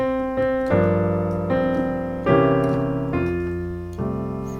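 Piano chords in a jazzy ii-V progression with a flat-nine dominant, each struck and left to ring, moving through a short progression at a moderate pace.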